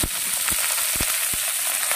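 Cauliflower and potatoes hit hot oil in a pan, a loud, dense sizzling hiss with a few quick stirring clicks, brief and close.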